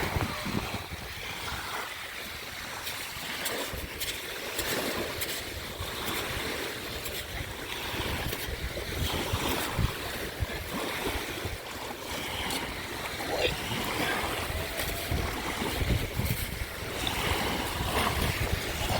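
Surf rushes and recedes steadily over wet sand on a Gulfport, Mississippi beach, a continuous washing hiss with gusty wind noise and no talk.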